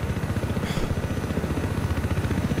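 Helicopter in the video game Battlefield 4: steady loud rotor and engine drone with rhythmic throbbing pulses, close and continuous for the whole stretch.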